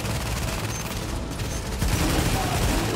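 Sustained video-game gunfire in Dragon's Nest, a dense continuous volley of shots with a mechanical clatter, loud throughout with a faint voice briefly underneath.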